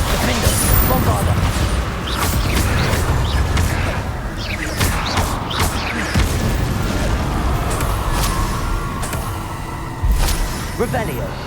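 Spell impacts from Confringo and Bombarda blasting in Hogwarts Legacy, a rapid run of sharp booms and crashes through a busy battle, with a voice shouting spell names over the bursts.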